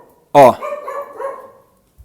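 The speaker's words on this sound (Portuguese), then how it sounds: "sempre tem um cachorro latindo." A dog barks once, loud and close, followed by a brief whining tail, with a short vocal exclamation at the start of the bark during podcast recording.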